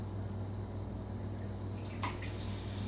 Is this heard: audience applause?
no